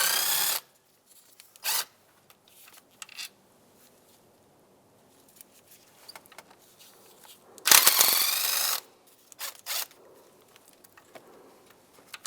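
A power tool spins out 5/16 bolts from the intake of a 2007-2015 Mazda CX-9, coming in a few short loud whirring bursts separated by quiet pauses and light clicks.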